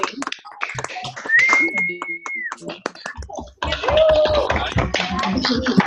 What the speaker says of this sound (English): we need to unmute everyone so we can give Lori a big round of applause